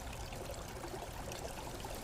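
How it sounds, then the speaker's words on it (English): Clear epoxy resin pours over ocean-wave resin art in a soft, continuous liquid trickle, faint and steady from start to finish with no voices. "Finally, pour a layer of clear epoxy resin to protect all the magic we had done."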